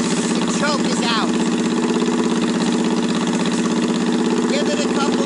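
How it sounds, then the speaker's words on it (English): Carbureted motorcycle engine idling high with the choke pulled out, a steady loud close rumble throughout, with a voice speaking over it. "You're going to notice the engine is going to get a little loud. That's because it's revving a little high."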